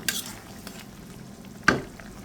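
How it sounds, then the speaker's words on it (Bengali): A spoon stirs prawn curry with fresh coriander leaves in a pan, a soft sizzle under two sharp scraping clinks of utensil on metal, near and without talk. "ধনে পাতা দিয়ে নেড়ে ছেড়ে দিচ্ছি"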